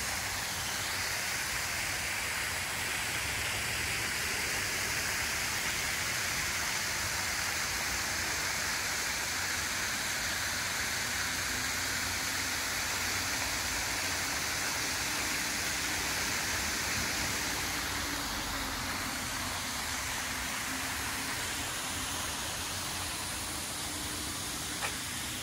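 Waterfall on the Chedoke Radial Trail, a steady, dense rushing roar of falling water that continues unbroken and fairly loud throughout.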